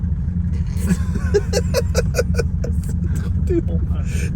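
A Mercedes 280SE W108 swapped with an OM606 diesel drives with open exhaust cut-outs, giving a deep, steady, throbbing engine drone throughout, while someone talks over it.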